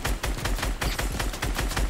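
Rapid burst of shotgun blasts from the Fortnite video game during a dark nighttime fight, a dense string of loud, close shots with no talk over them.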